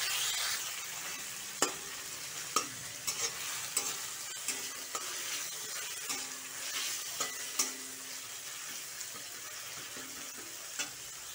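Tomatoes simmering in a pan for a potato and brinjal curry, with a soft steady sizzle and scattered sharp clicks of a spoon stirring against the pan, moderately close and alone.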